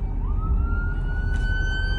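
A police car siren wails loudly and close, rising in pitch and then holding a steady high tone over a heavy low rumble of traffic or engine.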